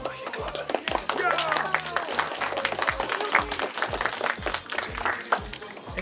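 An audience in a library applauds steadily for several seconds, dense clapping close by with a voice or two rising briefly over it.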